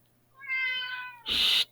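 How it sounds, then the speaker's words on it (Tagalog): A single drawn-out cat meow rising then falling, followed by a short breathy hiss-like burst, close and fairly loud in a quiet room. "ang ingay na, pasensya na kayo sa pusa ko."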